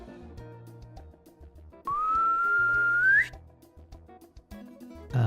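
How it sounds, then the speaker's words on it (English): A single clear whistle glides upward for about a second and a half, standing out above quiet background clatter. "And you hear a faint whistling."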